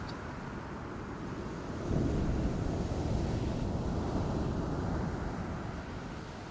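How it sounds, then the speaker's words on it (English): Waves washing onto a beach at night under a full moon, a steady broad surf roar that swells louder partway through and holds, with no voices. "Let's sit and listen to the nighttime beach"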